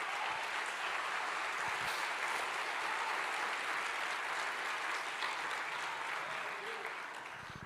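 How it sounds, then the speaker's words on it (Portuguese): Church congregation applauds in a dense, continuous wash of clapping that holds steady and eases slightly at the end, with faint voices mixed in. "Pode aplaudir Jesus"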